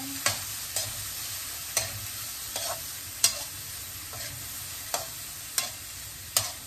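Hotdogs go into a frying pan and get stirred, with a steady sizzle under repeated sharp scraping strokes of the utensil at irregular intervals.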